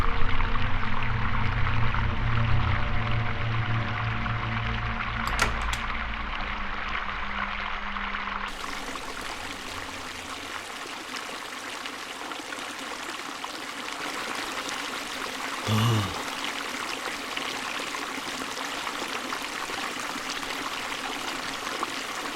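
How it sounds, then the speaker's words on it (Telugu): Water runs in a steady stream, a faint continuous trickle and rush heard alone, with a small thump partway through. "వాటర్ సౌండ్ వస్తుంది"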